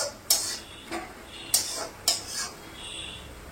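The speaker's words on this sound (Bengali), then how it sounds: "এইভাবে মশলাটাকে ভালো করে কষিয়ে নিতে হবে।" A spoon scrapes and taps against a pan while spice paste for a pointed gourd and prawn curry is sautéed, giving four or five sharp clinks in an uneven rhythm over a faint, low sizzle.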